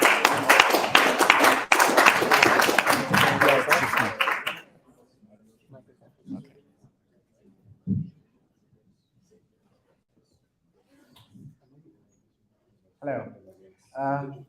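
Audience applause greets a student team coming on stage in a classroom lecture setting, a dense burst of clapping that lasts about four seconds and then stops abruptly, leaving quiet shuffles and a few faint voices.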